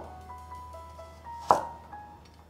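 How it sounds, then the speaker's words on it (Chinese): A single knife stroke through carrot on a cutting board, one sharp close chop standing out against a quiet background with faint tonal hum. "把红萝卜切成厚片，接着切粗条状，换一个方向"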